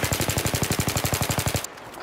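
Rapid automatic gunfire from Battlefield 3 team deathmatch, a steady fast burst of about fifteen evenly spaced loud shots that stops abruptly.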